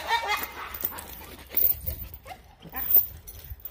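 A dog makes rough, strained barking and whining noises in short bursts, fairly close, with louder outbursts near the middle and end.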